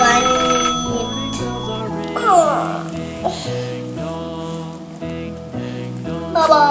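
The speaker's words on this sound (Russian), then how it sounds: "О, будильник звонит." An alarm clock rings with a bright, tinkling melodic chime playing a short repeating tune, close and clear, with a voice breaking in briefly partway through.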